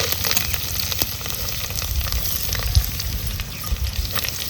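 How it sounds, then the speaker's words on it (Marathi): Onion fries in a pan beside garlic and coconut for a village-style pavta rice dish, giving a steady close sizzle with occasional crackles and stirring scrapes, and no talking. "आपल्याला कांदा भाजून घ्यायचा आहे"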